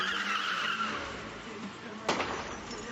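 A car in the iRacing sim racing game brakes into a corner and spins out from oversteer, with engine drone and a brief sharp tire squeal near the end.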